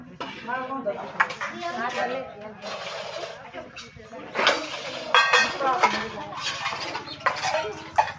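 Spoons and dishes clatter and clink in a home kitchen, with scattered metallic knocks running throughout beneath steady conversation.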